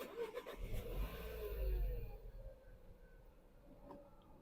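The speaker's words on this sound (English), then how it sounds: "I'm going to start the car." A 2018 Nissan Qashqai engine turns over and catches, revving loudly at first before settling into a steady, quieter idle.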